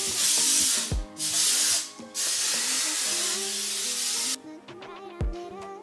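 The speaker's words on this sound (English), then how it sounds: "it's time for some really strong hairspray." Strong hairspray mists onto styled hair in several loud hissing bursts, with short pauses between them, sprayed close by and with no talk.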